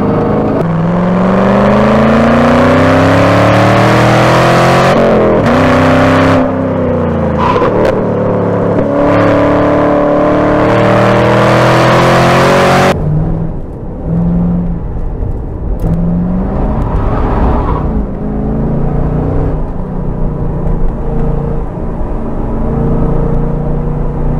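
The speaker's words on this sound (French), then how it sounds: "un petit peu de couple à bas régime et le bruit du moteur se transforme" A Chevrolet Camaro SS V8 engine revs loudly and continuously, pitch climbing through gears, then settles into a deeper rumbling drone with occasional blips.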